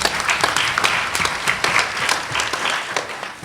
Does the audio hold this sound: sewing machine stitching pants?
no